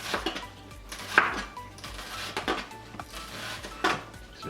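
A knife chops onion into tiny pieces on a board, with irregular, close taps and knocks spaced through a short stretch.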